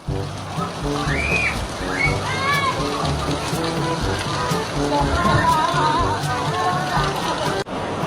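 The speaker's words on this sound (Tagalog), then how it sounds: "Hala, ang lakas ng ulan!" Heavy rain pours and splashes steadily across a wet surface, a dense continuous wash heard close, with voices calling and talking over it throughout.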